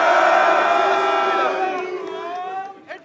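A crowd at a French rap battle event cheers and whoops loudly. The roar is strongest at the start, then slowly fades, with a few scattered shouts near the end.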